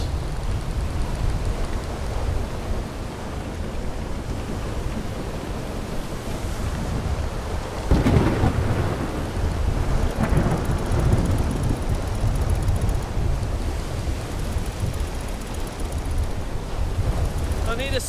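Strong wind howling steadily through a storm at sea in the video game Will: Follow The Light, a dense roar with surf and water washing beneath, loud and continuous with a gust swelling midway.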